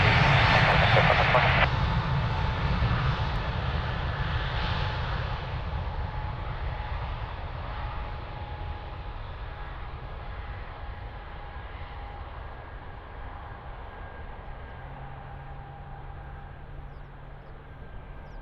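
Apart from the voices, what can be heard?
airliner taking off at Lisbon Airport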